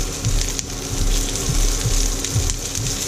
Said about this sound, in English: I'm just going to quickly just saute a few asparagus as well